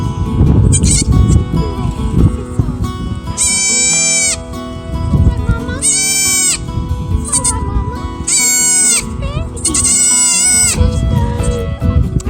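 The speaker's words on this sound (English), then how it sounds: "We had a baby goat that was born about a week and a half ago." A newborn baby goat, about a week and a half old, in a newly built goat barn gives four loud, wavering bleats spaced a couple of seconds apart, with rustling and low background noise between them.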